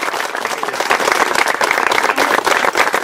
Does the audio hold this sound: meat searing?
no